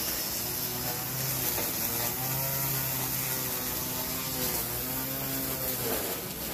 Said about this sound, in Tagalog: Si Papa nagtitrim ng grass.